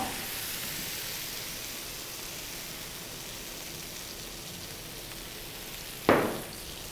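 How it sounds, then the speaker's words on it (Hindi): Tomatoes frying in oil on a flat tawa: a continuous soft hiss of sizzling throughout, ending with a sudden louder sputter as more oil hits the hot surface. "टमाटर को तवे पे 2 से 3 मिनट भूनने के बाद इसको मैं एक साइड पे कर लूँगी और सेंटर में मैं और ऑयल डालूँगी"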